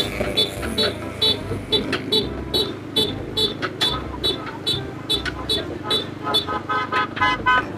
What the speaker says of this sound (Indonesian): Kita cek klakson, udah lama ini jarang dipakai